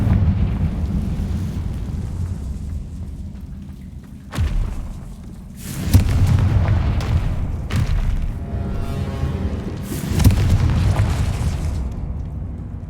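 Confringo fire spell explosions in the video game Hogwarts Legacy, a series of loud booming blasts with roaring, crackling tails, each swelling and fading over a low rumble, with no talking.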